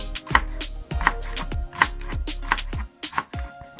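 An onion is chopped with a knife on a cutting board for a cabbage salad, making about five crisp, evenly spaced knocks close by, with soft scraping between strokes and no talking.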